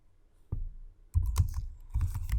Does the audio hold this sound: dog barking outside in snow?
no